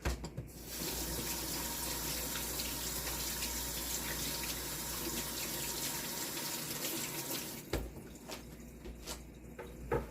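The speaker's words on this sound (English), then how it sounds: "Let me wash my hands." Hands are washed under a running kitchen tap, a continuous close splashing stream of water lasting nearly the whole time before the flow is cut, followed by a few light drips and handling sounds, with no talking.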